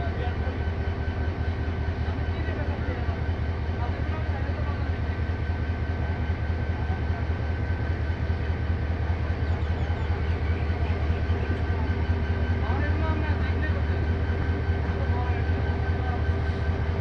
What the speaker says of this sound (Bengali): চট্টগ্রাম থেকে ছেড়ে আসা ঢাকা অভিমুখী আন্তনগর 703 মহানগর গুদলি গুণবতী রেল স্টেশন